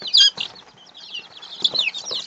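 Bantam chickens, the miniature breed, clucking with bursts of wing flapping, close and fairly loud in two short flurries over a couple of seconds.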